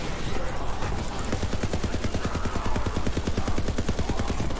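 Rapid automatic gunfire in the video game Borderlands 3, a long unbroken stream of evenly spaced shots, loud and close over dense combat noise.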